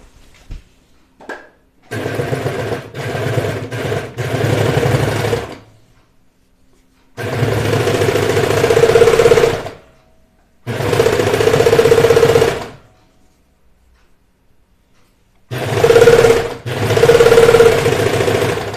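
A sewing machine stitches stretchy sweatshirt fabric in four loud, steady runs of a few seconds each, separated by short pauses, with no one speaking.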